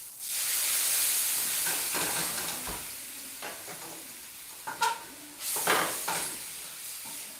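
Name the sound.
pan being deglazed, liquid hissing and steaming before cooking eggs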